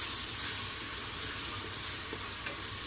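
Ginger paste and spices sizzle steadily in a pan while being stirred for a black chickpea curry, a continuous hiss with faint scraping, close and alone without talk.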